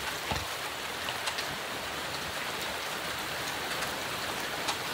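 Steady, dense rain falls throughout, a close and even hiss of drops with a few brighter splashes and no voices.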